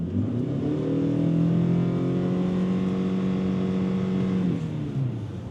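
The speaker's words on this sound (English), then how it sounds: "In typical power split eCVT fashion, there's quite a bit of droning while accelerating." Hybrid eCVT powertrain of a 2025 Ford Maverick Lariat Hybrid AWD at full throttle, a loud, steady engine drone held at nearly constant pitch for several seconds before it eases off near the end.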